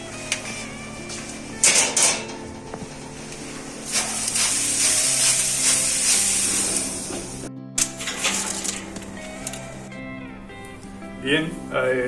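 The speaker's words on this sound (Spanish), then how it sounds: "lo vamos a pulverizar con un poquito de agua, un pulverizador, para que haga vapor cuando lo ponemos en el horno" Several hissing bursts from a water spray bottle mist homemade bread dough before it goes into the oven, with sharp clicks and a sustained misty hiss across most of the stretch, under a faint low hum.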